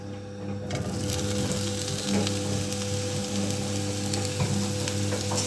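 Potatoes hitting a hot pan and frying in oil, a loud, continuous close-up sizzle that starts abruptly after a brief quiet moment and holds steady, with light stirring noises and no speech.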